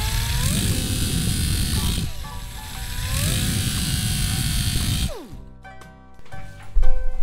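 Electric grinder sharpening a lawn mower blade, a whining motor that rises and falls with each pass, broken by a brief dip before cutting out near the end, with someone talking over it.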